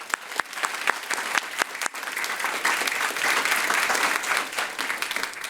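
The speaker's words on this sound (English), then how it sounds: "Please join me in giving them a round of applause." Audience applause at a school district board of trustees meeting, welcoming newly appointed assistant principals, a steady round of clapping from a room of people that swells and holds at a lively level for several seconds.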